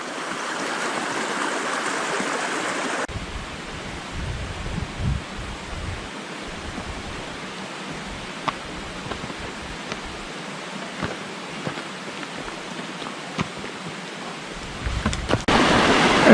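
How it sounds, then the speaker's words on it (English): Steady broadband rush of a forest stream running toward Dark Hollow Falls in Shenandoah National Park, continuous and fairly close, with a few faint sharp ticks scattered through and no voices. "That's all you hear. Water, birds, nature."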